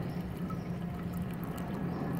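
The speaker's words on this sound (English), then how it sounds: "And then I'll pour about 12 ounces of water" Water, about twelve ounces, poured into a dish outdoors as the base for a liver of sulfur patina on copper: a steady, soft, continuous liquid splash and trickle, close and quiet, with no talking.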